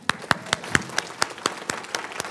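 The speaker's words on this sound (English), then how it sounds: "Let's clap for those people." A few audience members clap for donors at a church session, about a dozen separate, evenly spaced claps from a sparse group, fairly faint and distinct rather than a full ovation.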